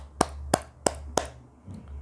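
Four crisp, close hand claps from a children's clapping game land at a steady, even pace, followed by a faint rustle.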